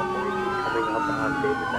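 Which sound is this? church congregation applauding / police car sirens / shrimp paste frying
police car sirens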